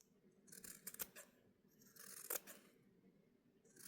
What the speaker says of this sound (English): I am now going to trim these corners.